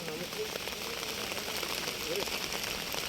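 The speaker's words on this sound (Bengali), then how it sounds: "কারণ যে পরিমাণ বৃষ্টি হচ্ছে" Rain falls steadily on a village scene, a constant dense patter of drops on surfaces with no clear pauses, moderately faint and continuous throughout.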